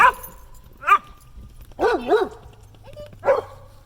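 Dogs from a high-energy pack bark and yip nearby in four or five short, sharp, separate outbursts, with brief quiet gaps between them.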